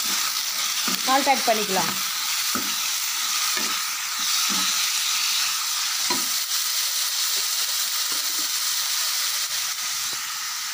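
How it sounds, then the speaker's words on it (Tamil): Ridge gourd peel fries in a pan with a steady sizzling hiss throughout, with a few stirring scrapes and someone speaking briefly over the cooking. "நம்ம ஃப்ரை பண்ணிக்கலாம்"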